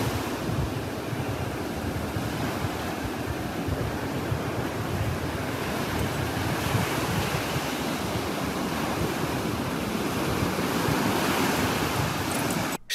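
Ocean surf roars continuously, a dense, steady wash of breaking waves with wind noise, loud and close, with no voices.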